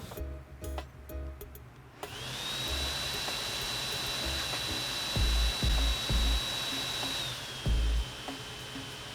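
A travel projector's cooling fan spins up loud with a steady airy rush and a thin high whine that holds for several seconds and then eases off, with a few dull knocks underneath and no talking.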